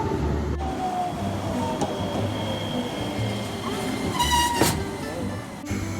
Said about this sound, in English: Here is the Matsuyama Iatetsu tram.